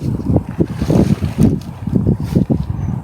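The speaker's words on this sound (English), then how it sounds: "the wind's starting to kick up" Outdoor wind roars steadily against the microphone, a low buffeting rumble with gusty swells and no speech.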